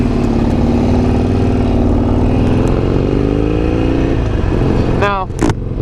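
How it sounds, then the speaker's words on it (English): A Harley-Davidson XR1200, an Evo-engined Sportster-type motorcycle, idles loud and close with a deep steady exhaust rumble that rises slowly, then a quick rev swells and cuts near the end. "That exhaust sound good."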